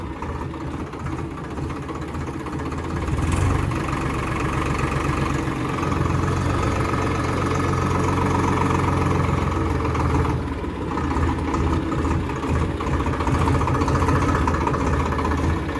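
A Swaraj 735 FE 30 hp tractor engine runs steadily at its rated 1800 RPM, a close, loud, even diesel drone with a slight rise early on, then holding constant.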